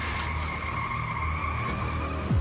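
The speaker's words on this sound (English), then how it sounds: "A white sedan, traveling at a high speed, overshoots the on-ramp, barreling straight into a box truck" Tires squeal in a sustained high-pitched skid as a speeding white sedan overshoots a highway on-ramp, ending in a sudden low thud as it strikes a box truck.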